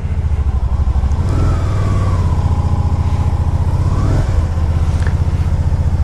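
A 2012 Can-Am Spyder RT three-wheeled motorcycle engine runs loud and close, a steady low throb with a rising and falling whine partway through and no talk over it.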